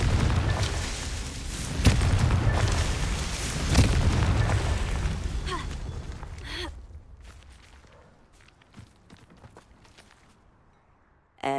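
Confringo fire spell in the game Hogwarts Legacy, erupting in heavy booming blasts with deep rumbling bursts that fade into quieter footsteps and scattered clicks.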